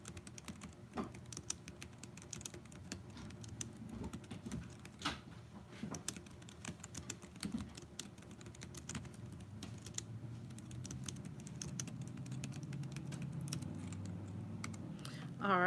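Keys on a computer keyboard clatter in quick irregular bursts, close by, with a low background hum throughout.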